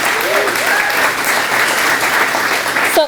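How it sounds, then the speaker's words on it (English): A crowd claps steadily and warmly for several seconds, a dense wash of applause with a voice briefly audible beneath. "Let's give him a round of applause."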